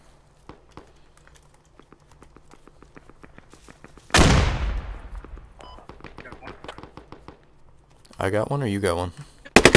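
Gunfire from a squad-based military shooter game: a rapid run of sharp shots, then a loud blast and a longer burst, with voices talking over the firing.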